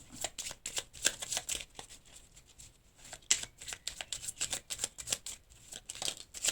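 Tarot cards being shuffled close up, a steady run of quick papery riffles and flicks with brief pauses, no voices.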